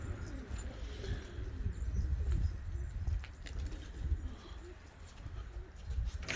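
Pigeons coo softly in a flying loft in Gaziantep, with low, faint, repeated calls amid quiet rustling and scattered light knocks in the background.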